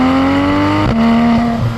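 A 2016 Porsche GT3 RS flat-six roars loudly and close, holding a steady high pitch before a sharp shift drops the tone and it pulls on again.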